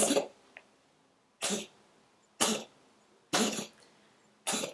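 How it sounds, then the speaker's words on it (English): A child clears their throat in five short, rough bursts spaced about a second apart, close by, with quiet pauses between. "It's clearing his throat."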